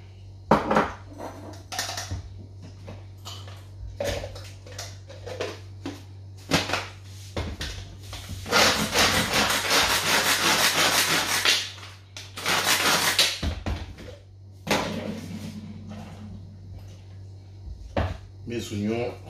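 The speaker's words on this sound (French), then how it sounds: "j'ai mon petit appareil pour hacher plus finement parce que j'aime bien quand les oignons ne sont pas trop gros" A small kitchen chopper finely minces onions in two strong whirring bursts, mixed with clattering dishes and utensils. A person talks at intervals throughout.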